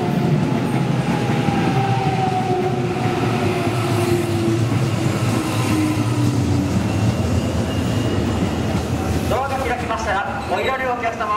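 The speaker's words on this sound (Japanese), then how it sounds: "3番乗り場電車到着します。" A JR commuter train pulls into platform 3 at Amagasaki station during the evening rush, a steady loud rumble and rail noise under platform announcements, with brakes squealing near the end.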